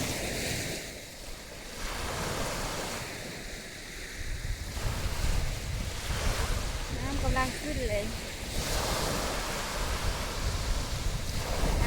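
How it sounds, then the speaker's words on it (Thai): Sea waves rolling and rising at Wa Ko beach, a continuous broad wash of surf with gusts of wind buffeting the microphone and someone speaking briefly over it. "น้ำสีเขียวเลยโอ้กำลังขึ้น น้ำกำลังขึ้น"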